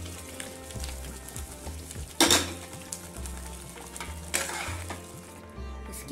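Dal for dal makhani tipped into a hot pan, a continuous sizzle and frying hiss with two sharp louder bursts as it hits the pan, plus occasional clinks of a spoon against metal.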